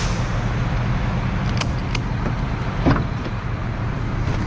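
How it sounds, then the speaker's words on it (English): A truck's engine idles and rumbles steadily as it is moved at a gas station pump, with a few faint clicks and clunks along the way and no talking. "So now I need to move my truck around."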